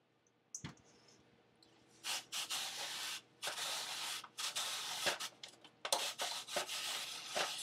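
Vegetables are forced through a hand-cranked spiralizer to make raw noodles, giving bursts of close, scraping, grinding friction in uneven pushes and turns with short pauses between them.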